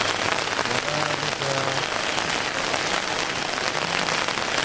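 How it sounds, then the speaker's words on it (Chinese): Heavy rain pours outside a campsite beside a farm in a storm, a dense, constant close patter on surfaces that stays even throughout with no pauses. "外面下着很大的雨"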